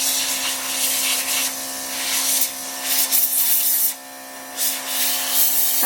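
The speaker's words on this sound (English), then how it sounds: "It seems like it's good to move the airbrush around a lot as you're using it." An airbrush spraying paint onto a small LPS toy figure, a steady close hiss with a constant tonal hum beneath, broken by brief pauses and bursts as the nozzle moves around.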